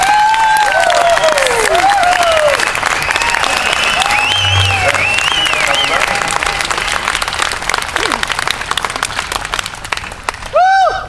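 Audience applause fills a hall in Boise as a sheriff is welcomed to the stage, a dense, steady clapping wash with some cheering, holding loud for about ten seconds before easing slightly.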